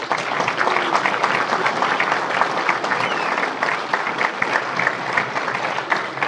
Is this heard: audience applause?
yes